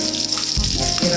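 Green chillies fry in a pan as a vegetable gravy is cooked, a bright crackling sizzle close up that swells when they hit the hot oil, with soft stirring noises.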